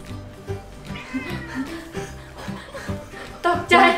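A cat meows for food in a kitchen where Japanese-style barbecue-sauce baked pork ribs are being prepared, with short meows under people talking and laughing and a louder, clearer meow at the end.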